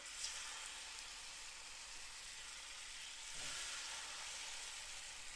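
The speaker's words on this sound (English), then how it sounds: "You hear that little sizzle? Let them sear." Steady, close sizzling of food frying in a pan, a continuous crackly hiss with no talking.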